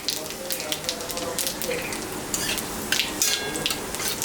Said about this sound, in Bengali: এখন আমি আর একটু তেল দিলাম, লঙ্কা জিরা সম্বরা দিলাম